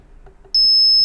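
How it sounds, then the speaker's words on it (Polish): A Bosch GLL3-80CG laser level sounds its tilt alarm: after a quiet moment with faint handling noise, a loud, steady high-pitched electronic beep starts abruptly and holds continuously to the end. "Urządzenie po około 15-20 sekundach od włączenia uzbroi alarm, który po przechyleniu poza zakres samopoziomowania wyda dźwięk"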